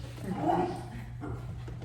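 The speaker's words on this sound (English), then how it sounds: "Puppies, man. They're crazy." A puppy whimpers and gives a soft bark, close by and fairly loud, in a short burst over a low steady background hum.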